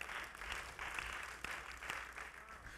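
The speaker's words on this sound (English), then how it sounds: "clap your hands if you get that" A congregation claps at a full Saturday church service, a moderate, slightly uneven patter of many hands with a few sharper individual claps standing out.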